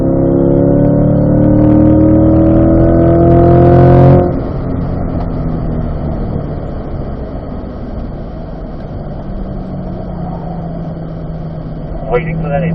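A C8 Corvette accelerating on a race track at driving school, its engine roaring loud with rising pitch for about four seconds, then dropping to a quieter steady drone under road and wind noise.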